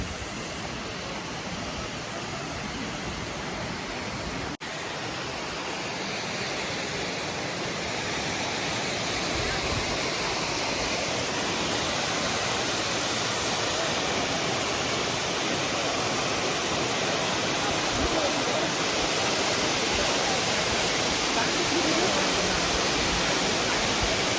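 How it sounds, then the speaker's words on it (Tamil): Kookal waterfall near Poombarai in Kodaikanal roars as a constant, dense rush of falling water, steady and loud throughout with no breaks. "ஸோ கூக்கல் வாட்டர் ஃபால்ஸ் வந்தாச்சு."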